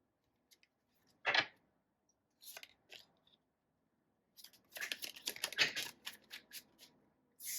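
Tarot cards being drawn and shuffled from a deck, with a sharp single card snap early, then a cluster of quick papery flicks and rustles close by with no talk.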